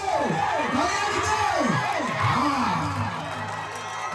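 Crowd at a tug of war match in Keezhathur, Kannur, cheers and shouts loudly throughout, with whoops and rising calls over a noisy crowd.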